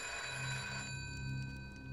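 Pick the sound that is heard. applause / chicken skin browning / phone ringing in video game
phone ringing in video game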